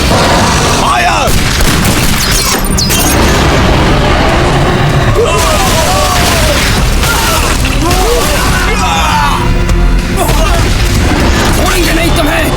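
Gunfire and explosions from a battle in a Hindi-dubbed fantasy anime with a dragon, with dense booms and bursts layered under music and shouting voices throughout.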